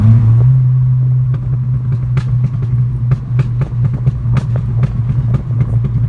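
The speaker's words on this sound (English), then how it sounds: "Downshifts sound really good with it open." Volkswagen MK6 GTI with its ECS Tuning exhaust cutout open, a steady, loud low exhaust drone running throughout, broken by a series of sharp pops and crackles as the car downshifts, with no voices.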